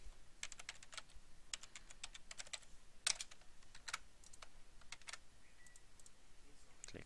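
Someone types on a computer keyboard, a quiet run of irregular, crisp key clicks with one louder press partway through and no voices.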